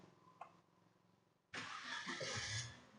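A 2017 Wuling Confero with manual transmission cranks and starts after a quiet moment with a faint click, then settles into a steady, moderately loud idle.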